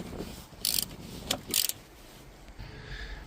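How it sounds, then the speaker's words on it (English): Ratchet wrench tightening the negative battery cable clamp on an old Dodge Ram truck with a 5.7L Hemi, a few quick bursts of ratcheting clicks close by, with short pauses between them. "Now tighten up negative cable"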